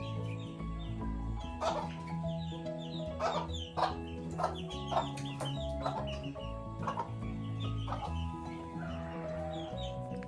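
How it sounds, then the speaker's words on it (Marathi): Hens cluck repeatedly at moderate distance in a Konkan village, short bursts scattered throughout over a low steady background hum. "कोंबड्यांचा आवाज येते बॅकग्राऊंडला"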